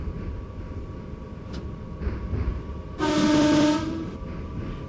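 Simulated train horn in the Open BVE game, a single low-tone blast sounded at a whistle board from a 6-car passenger unit, a steady held note of about a second over low rumbling running noise.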